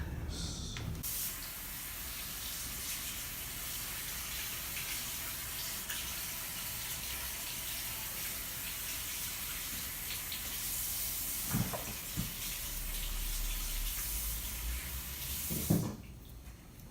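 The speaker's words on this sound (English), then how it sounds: "Probably should have washed my hands." Hands being washed under a running sink tap in a kitchen, a steady loud hissing stream of water lasting most of the time, with a few brief splashes and clunks before it cuts off.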